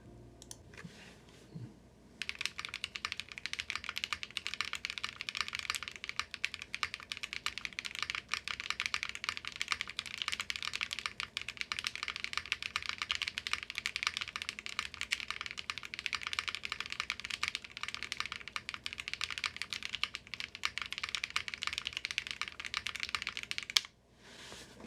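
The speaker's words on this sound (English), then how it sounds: "Okay, here, let's do another typing test." Rapid, continuous typing on a custom-built mechanical keyboard, a dense stream of muted key clicks close up that runs steadily for over twenty seconds before stopping.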